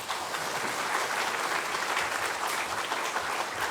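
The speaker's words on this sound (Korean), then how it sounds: "우리 박수로 환영하겠습니다." A church congregation claps together to welcome their pastor at a Sunday service, producing a steady, dense round of applause from many hands filling the room, with no voices over it.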